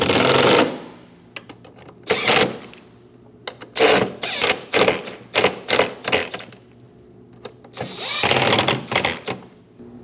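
Bolts on a throttle body are snugged onto a new intake manifold of a 2011-2018 Ram 1500 5.7L V8, heard as bursts of close ratcheting clicks with pauses between them and no talk.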